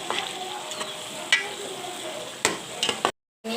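Ginger garlic paste frying in a pan for a Godavari prawn curry, stirred with a spoon: a steady soft sizzle with scattered scraping clicks of the utensil, brief gap near the end.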